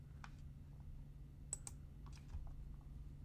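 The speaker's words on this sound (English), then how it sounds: "Sorry, doing a lot of clicking today." Sparse, quiet computer keyboard typing and mouse clicks come in short scattered bursts, close up in an otherwise still room.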